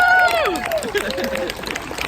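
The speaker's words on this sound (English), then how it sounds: "can we join in one more round of applause for this extraordinary woman" Audience applause breaking out, many hands clapping in a steady wash while a voice briefly carries over the start.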